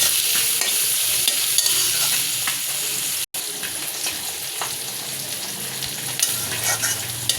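Onion and garlic frying in a pan, a steady close sizzle with occasional stirring scrapes and faint watery sounds, continuous throughout with a brief dropout midway.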